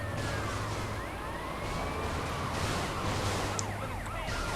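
Police car sirens wail in the video game GTA Liberty City Stories, several overlapping sweeping tones rising and falling continuously over engine rumble, moderately loud with no talking.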